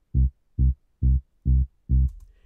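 Soloed synth sub bass in Logic Pro X plays five evenly spaced, deep, booming notes, each short and punchy with clean silence between them.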